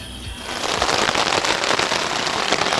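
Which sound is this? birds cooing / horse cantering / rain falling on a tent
rain falling on a tent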